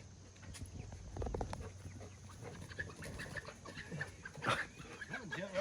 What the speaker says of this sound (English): No, it's the chickens.